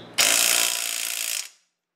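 A DEWALT DCF880 20-volt 1/2-inch cordless impact wrench fires one loud, close burst of rapid hammering that lasts just over a second and then stops abruptly into silence.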